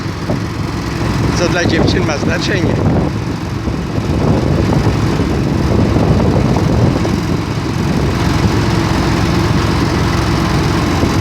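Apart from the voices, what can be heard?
long-shaft boat motor running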